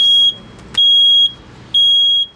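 A smoke detector alarm sounds three loud, piercing high-pitched beeps at an even rhythm, each lasting about half a second, close by and with nothing else audible.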